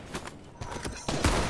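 Gunfire in a multiplayer shooter game rings out as several sharp cracks in irregular bursts, growing louder toward the end, with clattering movement noise between shots.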